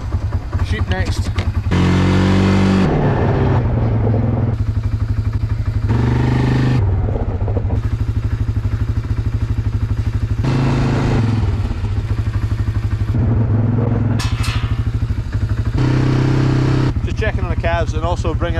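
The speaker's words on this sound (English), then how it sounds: "Checking on the calves and also bringing out the quad bike just so they get used to it a bit." Quad bike engine on a farm near calves, a loud close motor running and revving in uneven bursts with clattering, heard under frequent talking.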